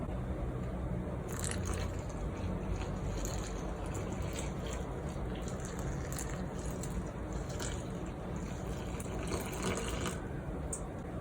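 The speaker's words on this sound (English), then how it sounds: "And now we'll be mixing the warm water in the dry ingredients." Warm water and honey being stirred into dry wholemeal bread ingredients: a steady, close, wet squishing and mixing with faint crunchy grain textures, running continuously with no talking.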